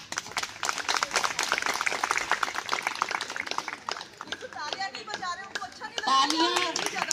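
Audience applause at a school annual function, with scattered clapping through the first few seconds, then fading under a mix of voices and children's chatter.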